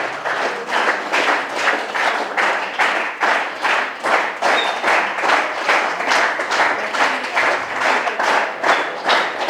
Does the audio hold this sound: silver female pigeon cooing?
no